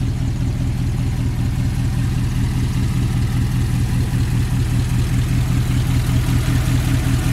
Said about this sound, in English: It's powered by a Ford flathead V8.